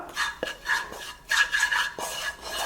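Poha mixture with spice powders stirred in a pan, repeated gritty scraping and rasping strokes of a utensil against the metal, close and alone.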